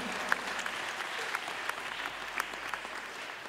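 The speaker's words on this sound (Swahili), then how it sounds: "Tuwapigie makofi mazuri." Steady applause from a church congregation at a Kikuyu-language service in Thika town, a dense, even patter of many hands clapping at moderate distance for a few seconds, with no voices standing out.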